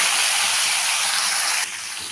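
Chopped vegetables hiss and sizzle steadily in hot oil tempered with whole cumin seeds in a home kitchen, a loud, dense frying sound that drops slightly in level near the end.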